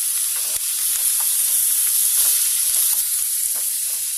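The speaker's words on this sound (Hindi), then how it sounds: "इसको भी हल्का सा हमें सोटे करना है" Vegetables, tomatoes and onion sauté in a pan for chicken vegetable soup, a loud continuous sizzle with faint stirring scrapes underneath, close up with no voices.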